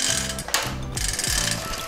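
Rapid clicking ratchet and pawl of a longarm quilting frame as the quilt is rolled on, several quick bursts of mechanical clatter with brief pauses, close and loud.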